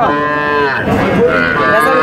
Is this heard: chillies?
no